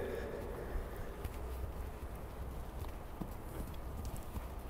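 Horse walking during a riding lesson, its hooves giving soft irregular clip-clop steps over a steady noisy outdoor background, with faint insect buzzing.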